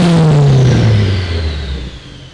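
A Nissan Silvia S15 four-cylinder engine revs loudly, its pitch sliding steadily downward as it winds down over a couple of seconds, close and continuous.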